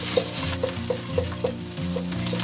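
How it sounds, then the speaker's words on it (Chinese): Rice stir-fried with a curry block over high heat in a wok, a close steady sizzle broken by a quick series of metallic spatula clinks and scrapes, roughly every quarter second, with no speech. "加入25克的咖喱块，然后翻拌均匀"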